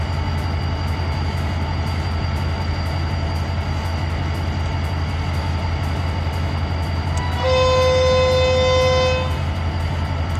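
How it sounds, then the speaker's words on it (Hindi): Pakistan Railways locomotive 8213 sounds a loud, steady multi-tone whistle for about two seconds near the end, rising above the constant low rumble of the idling engine at a station. "कितना खूबसूरत विसल है एट टू वन थ्री का"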